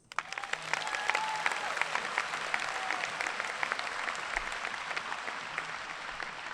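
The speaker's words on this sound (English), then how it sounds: "let's give a round of applause to our teachers" A graduation audience at a high school commencement bursts into sustained applause for the teachers, a dense wash of many hands clapping that rises quickly and holds steady, with a few scattered cheers.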